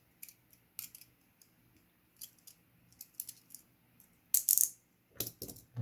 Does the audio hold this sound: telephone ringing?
no